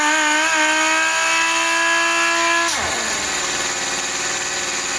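An air sander run from a RocwooD silent 50L compressor whines steadily, then bogs down and stalls with a falling pitch, leaving a lower mechanical hum running on close and loud.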